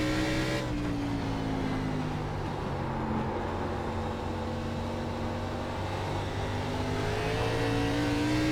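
An ARCA stock car in iRacing at South Boston holds a steady, loud engine drone with shifting whining tones as the tires slide through the corners, the pitch dipping and rising under load.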